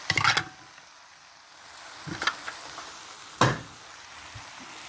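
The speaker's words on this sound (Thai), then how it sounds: "ใส่ข้าวลงไปผัดนะคะ" Rice is stir-fried in a pan with oyster sauce. A faint, steady sizzle carries on quietly beneath a few sharp spatula scrapes and clanks.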